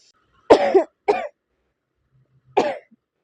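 Three sharp coughs, two in quick succession then one more after a pause, close and clear against silence.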